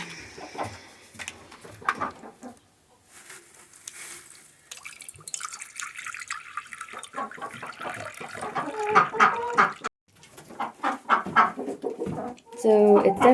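Five hens, a rooster and a duck crowded in a coop at night, clucking and squawking close by in scattered bursts that grow busier toward the end, with some dripping water.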